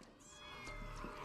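A Maine Coon cat meows in a TV show scene, a short, faint cry heard at low volume.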